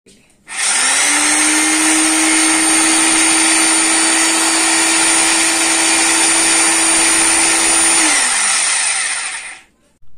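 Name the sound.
Wondercut WCGP-2-26 rotary hammer drill spinning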